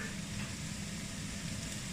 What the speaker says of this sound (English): start frying off the mince